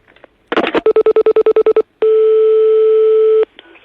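A telephone handset is hung up, then a number is dialed: a short clatter, a quick run of about a dozen evenly spaced touch-tone beeps, and a long steady tone, all loud and close with no voices.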